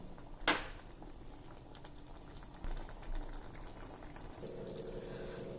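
Chicken semi gravy simmering in a pan as its water boils off, with soft, faint bubbling and a few brief louder pops and stirs in a quiet kitchen.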